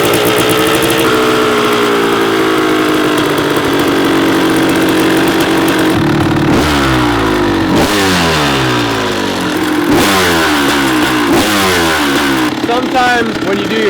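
Rebuilt 1994 Kawasaki KX250 two-stroke dirt bike engine running at a high idle during a first-start heat cycle, then revving up and down in several blips, loud and close, with nothing else covering it.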